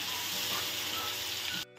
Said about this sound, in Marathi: छान असं तेल गरम झालेलं आहे, आता ही कांद्याची प्युरी आहे ना ती घालून घेते मी